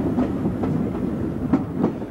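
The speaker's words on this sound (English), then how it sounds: "this will be rare 280 number 740045, seen just outside Milan on shunting duty" A 1967 Italian steam locomotive, class 740 number 740045, shunting just outside Milan, heard as a rumbling train with rhythmic clicking of wheels over rail joints at a moderate distance.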